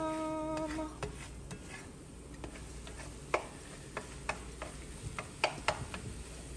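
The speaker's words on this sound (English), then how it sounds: "those eggs are cooking up beautifully in the cast iron" Eggs fry in a seasoned cast iron pan with a low, steady sizzle, broken by scattered sharp ticks and light clinks of a utensil against the pan, close and quiet with no talking.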